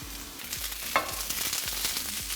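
Purple cabbage fries in leftover oil in a pan, a steady close sizzle and hiss with a single sharp clink near the start, under a faint repeating low pulse of background music.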